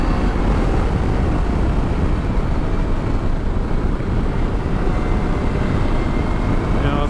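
A 2019 KTM 790 Adventure R motorcycle runs at full throttle through gear shifts, heard as a continuous loud, rough engine and wind roar with no clear breaks.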